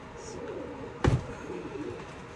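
Pigeons being re-homed give a soft, low coo close by, with a sharp flutter or knock in the middle and quiet room noise around it.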